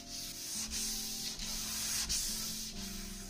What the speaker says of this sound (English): After that's all dried up, it's time to knock the grain back down with some sanding.